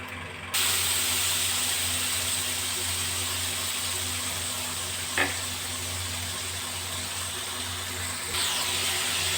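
Ajwain seeds hit hot oil in a wok and burst into a loud, steady, close sizzling hiss that starts abruptly and holds, with one brief crackle midway and no talking.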